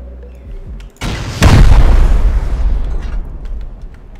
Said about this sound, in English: So I'll just go ahead and blow this one more rocket.